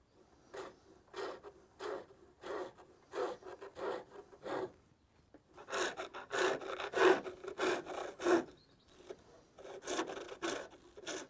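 Chisel cutting wood on a pole lathe, a rhythmic series of rasping scrapes repeating with each downstroke, close and clear with short gaps between strokes.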